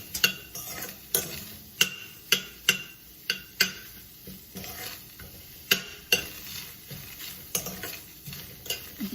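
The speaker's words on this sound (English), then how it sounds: "Give it a good stir." Chopped onion and serrano chili are stirred in a pan without oil, with a spoon scraping in steady rhythmic strokes about twice a second over a constant close sizzle.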